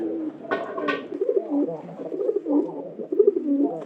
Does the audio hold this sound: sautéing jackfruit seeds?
no